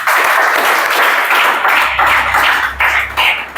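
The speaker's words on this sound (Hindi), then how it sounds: "ठीक है, ताली बजाओ।" A classroom audience of students claps on a teacher's cue, a brief burst of dense, loud clapping that thins into scattered claps, with a low hum underneath.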